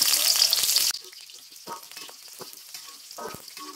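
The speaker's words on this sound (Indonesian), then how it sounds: "tumis bawang merahnya." Shallots sautéing in hot cooking oil make a loud sizzle that quickly drops to a quieter crackle, with occasional scraping and stirring sounds close by.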